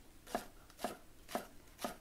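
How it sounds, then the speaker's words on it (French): A knife chops green onions into small rounds for kimchi, making four evenly spaced, crisp thuds on a cutting board, close and clear against a quiet background. "Madame Che is cutting the green onions in little circles"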